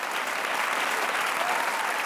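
A television studio audience breaks into loud, dense, continuous applause for a Hindi talk show, a close, even roar of many hands clapping with no break.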